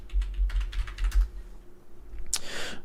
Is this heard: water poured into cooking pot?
no